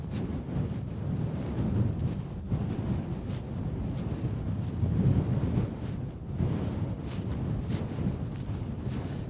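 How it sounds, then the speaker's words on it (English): Gusty wind blows across an open rewilding area in Dorset, buffeting the microphone in heavy rumbling surges that rise and fall over several seconds, with no voices. "Bit blowy today, bit windy."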